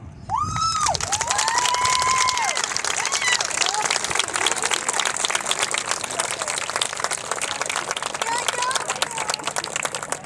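An audience applauds a group of hard-working students, sustained dense clapping mixed with cheers and a few shouts filling the whole stretch, with a brief voice near the start.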